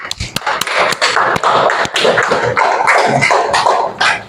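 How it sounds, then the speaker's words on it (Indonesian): A classroom of students claps for classmates who have just presented, a dense burst of many hands close by with a few sharp individual claps standing out, lasting the full few seconds. "Tepuk tangan untuk teman-temannya"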